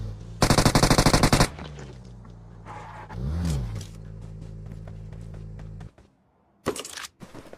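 Automatic gunfire in the PUBG Mobile video game: a loud, rapid burst lasting about a second, then a quieter stretch and a brief second volley near the end, with no talk.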